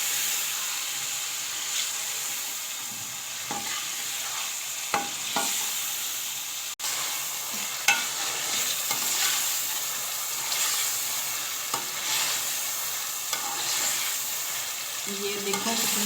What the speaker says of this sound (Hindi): इसको अच्छी तरह भूनते हैं।